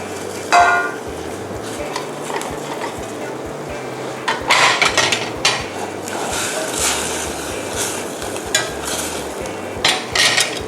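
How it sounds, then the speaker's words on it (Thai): A knife chops sliced lemongrass and fingerroot on a board for a Thai fish curry, with clusters of quick, fairly close cuts that break off into short pauses between bursts, with no one talking. "ตะไคร้นะคะหั่นเป็นเฉียงๆนะคะ หั่นชิ้นเล็ก ๆ แล้วก็ตามด้วยกระชายค่ะ"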